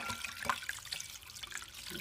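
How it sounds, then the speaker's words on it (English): Tap water runs steadily into a bowl of keto noodles being rinsed at a sink, a continuous close hiss and splash with no talking. "we are going to use tap water to wash it very well"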